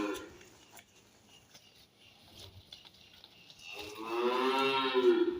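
A young bull calf at a dairy farm gives one loud, drawn-out moo close by near the end, after a few seconds of quiet with faint background noise.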